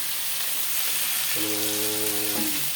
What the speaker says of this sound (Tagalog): Ayan po, napagisa na po tayo ng bawang, sibuyas, kamatis, saka yung black beans.